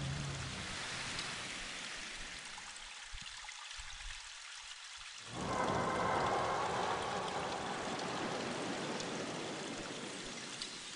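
Rushing water in the Realms of the Haunting game flows steadily, thins into a quieter trickle for a couple of seconds, then swells back into a louder, brighter gush.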